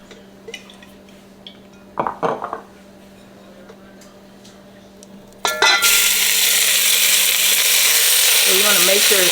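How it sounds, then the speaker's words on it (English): Food hitting hot oil in a pan for a vegetable soup, bursting into a loud, steady sizzle after a few quiet clatters of cookware, and continuing unbroken to the end. "Y'all, we just going to sear this for a couple minutes."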